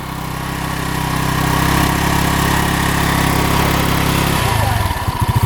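A small scooter engine idles with a steady buzzing drone, then sputters into uneven, pulsing bursts near the end as the throttle is turned slowly; close and fairly loud.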